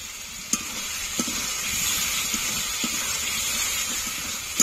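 Masala with a splash of water and slit green chillies sautéing in a pan for chicken curry: a constant, bright sizzle close by, with a few soft utensil taps spread across it.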